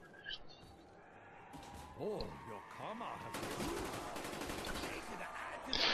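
Gunfire from a machine gun and a shotgun in the Zombies mode of Call of Duty Black Ops crackles in rapid bursts and dense volleys, loud and close, mixed with game effects and talk.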